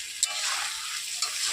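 Meat sizzling and frying in oil in a pan as the curry cooks down, a steady hiss with two brief louder spits and light stirring, no talk.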